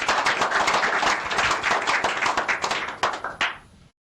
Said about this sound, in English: Make we clap for him.